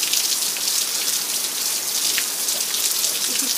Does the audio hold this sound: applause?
no